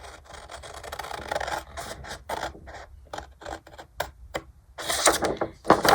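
Paper being cut at a marked line for a junk journal insert, a series of close, crisp scissor snips and rustles in an irregular rhythm, growing louder toward the end with no talking.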